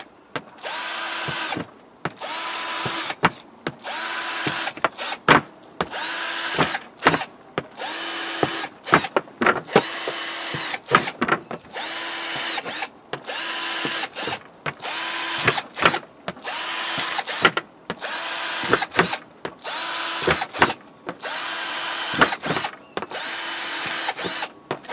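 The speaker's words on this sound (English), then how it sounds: "to drill a load of holes" A power drill bores a series of holes in the plastic lid of a storage container being made into a compost bin. Loud whirring bursts repeat rapidly, each a second or two long, with brief pauses between them.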